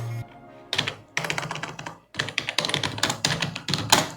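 Bursts of clattering keystrokes on a computer keyboard while text is typed into a Microsoft Word 2021 document, in close, uneven runs separated by short pauses, with no voices.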